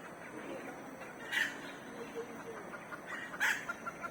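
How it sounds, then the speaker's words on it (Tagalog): A rooster crows twice in the forest at Bukit Timah, two short, fairly distant calls a couple of seconds apart over a steady hiss of ambient forest noise. "May nagtitilaok na manok."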